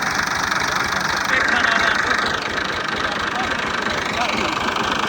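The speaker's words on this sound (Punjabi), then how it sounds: "ਟੋਚਨ ਪਾ ਰਹੇ ਨੇ ਟਰੈਕਟਰ ਅਗਲੇ ਨੂੰ ਹਲਾਂ ਵਾਲੇ ਨੂੰ ਟੋਚਨ ਪਾ ਕੇ" A tractor engine labours on a Punjab farm while towing another tractor fitted with a plough on a tow rope, a loud, steady rumble with knocking pulses and a shifting whine, voices talking over it.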